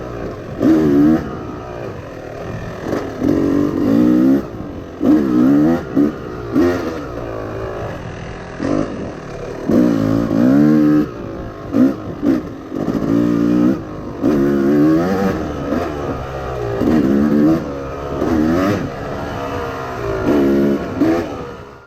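A Yamaha YZ250 two-stroke motocross bike is ridden hard. Its engine wails up and down in repeated revving surges, loud and close, for the whole stretch.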